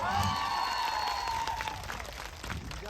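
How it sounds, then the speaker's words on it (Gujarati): A crowd at a political rally in Zankhvav claps on request for the police officers present, a steady wash of applause held for a few seconds while a whistling tone slides across the start. "એમના માટે જોરદાર આપણે તાળીઓ પાડી લો."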